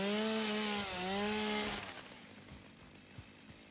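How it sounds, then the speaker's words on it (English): A chainsaw cuts down trees in the factory-building game Satisfactory: a loud, buzzing engine whine that dips briefly in pitch, then cuts off, leaving faint rustling and a few soft knocks. "chainsaw."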